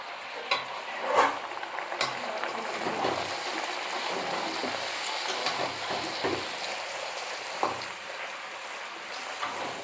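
Mutton sizzles and fries in a pan while being stirred at a roadside stall in Thakurnagar, a steady close crackle broken by occasional scraping clanks of the spatula, with no voices.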